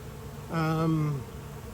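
A single honeybee drones close by during a hive inspection, one brief, steady buzz that swells in and cuts off within about half a second over quiet background.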